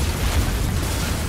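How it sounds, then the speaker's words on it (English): An explosion in the video game Hatred, a loud, sustained low boom that fills the whole clip with dense rumbling noise and no talking. "Ah, it's gonna make a nice explosion."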